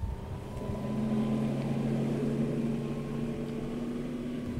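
A Ranieri Atlantis 24 motorboat cruising at 27 knots with its engine at about 4000 rpm, a steady loud hum and rumble with water rush held constant throughout, no talk.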